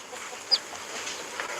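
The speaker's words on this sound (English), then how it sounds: "Let's go check on the chickens." Chickens cluck faintly at a distance over a steady airy background, with one short, sharp call standing out briefly.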